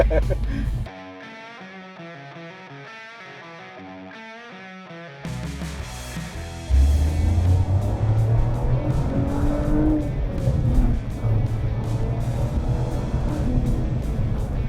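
A Toyota GRMN Yaris engine revving, first heard faintly inside the cabin with rising, stepped tones, then loud and rough as the rasping exhaust note takes over, with some voices mixed in.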